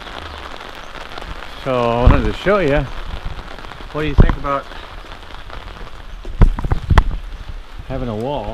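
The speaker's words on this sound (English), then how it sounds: "So one second it can be raining, one second not. So this second it is." Steady rain patters on the streets of Butzbach's German old town while someone talks over it, with a few sharper knocks in the background.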